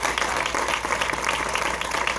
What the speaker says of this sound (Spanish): un aplauso al Señor, hermano, un aplauso fuerte.